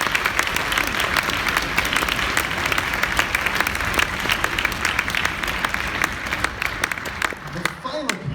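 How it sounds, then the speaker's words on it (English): An audience at a county high school band concert claps loudly and steadily, a dense wash of applause that carries on throughout and tapers slightly at the end. "I'd like to extend a round of applause for everybody who helped"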